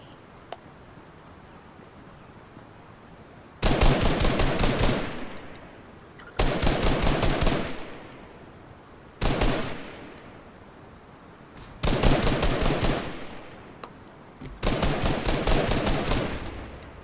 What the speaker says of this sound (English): Those gunshots mean that someone has likely seen someone else.